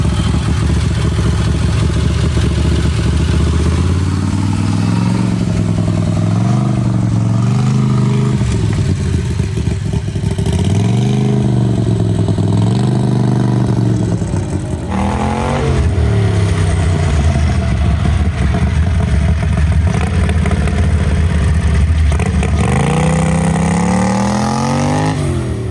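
A Turbo Predator 670 engine in a dragster idles loudly and revs repeatedly, its pitch rising and falling in a continuous close roar with no talk over it.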